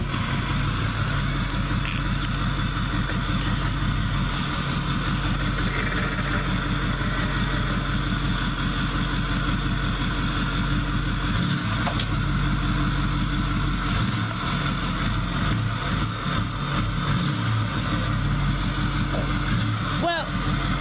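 A steady truck engine idles low and continuous while backing up, with faint voices now and then over the rumble.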